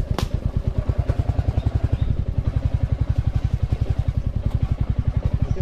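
A motorcycle engine thumps in fast, even pulses while being ridden, close and steady throughout with a brief sharp click near the start and no speech.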